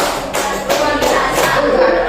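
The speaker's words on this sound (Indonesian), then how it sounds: "Tepuk 1, tepuk 2, tepuk 3, tepuk 4, tepuk 5." Members of an audience at a discussion session clap together in a counted pattern, several bursts of hand claps following one another under a steady murmur of background noise in a room.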